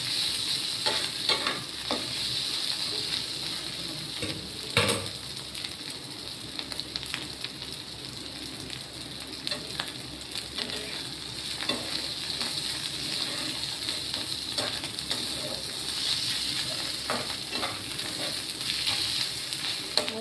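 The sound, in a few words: frying banana flower in a small wok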